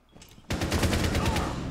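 Rapid automatic gunfire in Rainbow Six erupts suddenly after a quiet moment and keeps hammering in a fast, loud, close burst.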